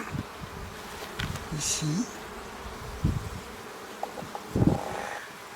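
Honey bees buzz softly on a brood frame opened in a hive during a spring inspection. A low hum runs throughout with a few closer passing buzzes, and a person says a word.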